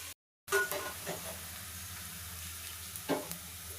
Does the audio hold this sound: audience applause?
no